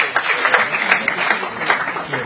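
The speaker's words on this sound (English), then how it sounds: "big round of applause" An audience at a property information night breaks into a brief, steady round of applause, a dense patter of many hands clapping at moderate volume in an indoor room.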